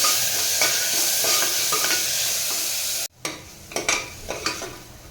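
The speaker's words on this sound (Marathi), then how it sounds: "आणि त्यानंतर त्यामध्ये घालणार आहे बारीक चिरून घेतलेला कांदा. कांदा सुद्धा छान परतून घ्यायचा आहे." Finely chopped onion sautéing in oil in a pan for a sprouted mung bean and drumstick vegetable dish, a loud steady sizzle that cuts off abruptly, then resumes with stirring scrapes and crackles.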